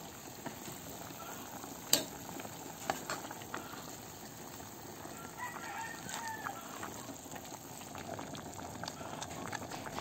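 Pork sinigang with cabbage simmering in a covered pot, a faint steady bubbling with small pops and one sharp clink, while roosters crow and chickens cluck in the background.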